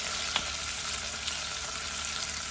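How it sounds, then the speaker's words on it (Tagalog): Garlic fries in a hot pan while cooking mung beans with squid, a steady broadband sizzle with a small pop near the start and no voices. "ilagay na natin yung ating garlic"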